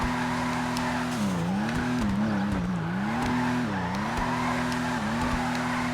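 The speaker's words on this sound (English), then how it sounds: "And it's drifting quite well, I must say." Vulcar Nebula Turbo car drifting in GTA Online, a steady engine drone with pitch dipping and rising through each slide, accompanied by continuous tire squeal, loud and sustained throughout.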